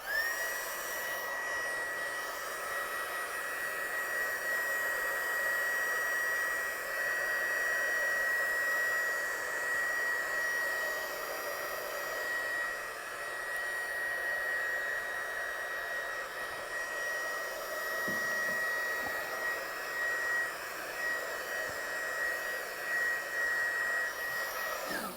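A hair dryer blows over a sheet of watercolour card, giving a continuous whining hum with a steady high tone. It runs alone at an even level from start to finish.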